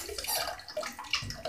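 A pet bird splashes in running water, producing busy, close, irregular sloshing and dripping water noise that runs steadily throughout the moment.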